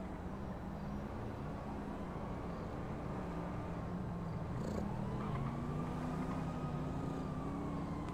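A car engine purrs in GTA V, a yellow car, with a steady low idle and smooth rising and falling engine pitch sweeps, moderately quiet and continuous with no talking.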